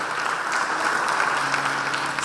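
Audience applause fills a book launch, a dense, even wash of clapping from a room of people that holds steady for a couple of seconds.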